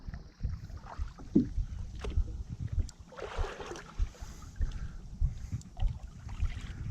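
A boat is paddled across a windy lake running higher than usual and choked with grass. Soft, irregular paddle strokes and water splashes come close by, mixed with gusty wind buffeting the microphone, and no talking.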